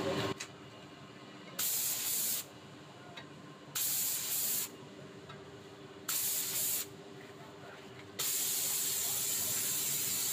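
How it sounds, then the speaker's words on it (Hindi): A spray gun applies PU polish to a wooden surface in several loud, steady hissing bursts of one to two seconds each, separated by short pauses, ending in a longer continuous spray. "पहले तो जो नॉर्मल स्प्रे करते हैं वो कर लेंगे"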